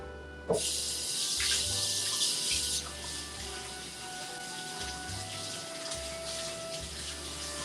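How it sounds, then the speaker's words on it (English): Fresh corn is rinsed under a running kitchen tap, a steady close stream of water splashing with a sharp burst early on, then a softer continuous flow with a low pump-like hum beneath, no talking. "let's wash off our corn here"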